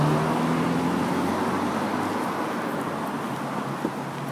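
Cars roll past on a London street, a steady broad wash of engine and tire noise that fades slightly as the traffic moves on, with no talking over it.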